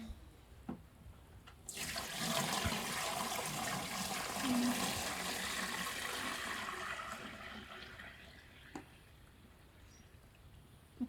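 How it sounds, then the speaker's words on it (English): Water rushes steadily into a household cleaning machine, a soft, hissing pour that starts abruptly, holds for several seconds, then gradually tapers off, heard faintly and alone. "So I'm going to go ahead and put in the water."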